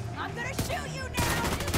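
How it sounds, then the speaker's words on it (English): Gunfire from a D50 pistol in The Division 2, set in a Wall Street mission, with several sharp, loud shots cracking through a busy game soundscape of effects and voices. "I'm gonna shoot you now"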